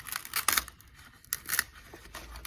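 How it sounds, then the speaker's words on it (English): Kool carpet tape being peeled off its silicone release paper, giving rough tearing rasps in several bursts close up with no talk. "If I peel this off right here, see that?"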